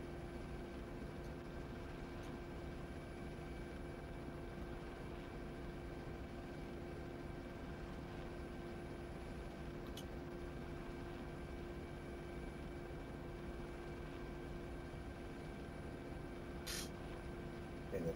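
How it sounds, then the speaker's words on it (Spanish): A helicopter engine hums in a flight video game, a constant, even drone with a steady rotor tone that runs unchanged for the whole stretch at modest level, with one faint click near the end. "aquí no cabía el helicóptero"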